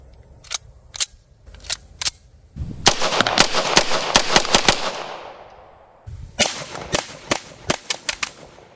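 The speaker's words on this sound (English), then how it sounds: "This next one is the Italian sight Spectre in 9mm." Italian Spectre 9mm submachine gun firing in sharp bursts at a range, loud cracks in quick succession with a dense sustained burst in the middle, then another rapid string of shots.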